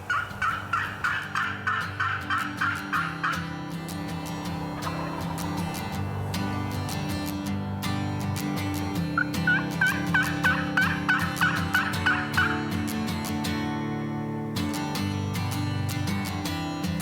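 Two young wild male turkeys (jakes) gobble in repeated rapid bursts during a morning spring turkey hunt in Michigan, loud and fairly close, with one volley at the start and another about midway, no talking.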